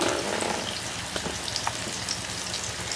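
Maggi noodle pakoda frying in hot oil on a low-to-medium flame, a dense, even crackle of sizzling bubbles with occasional sharper pops, close and continuous for the whole stretch with no talking.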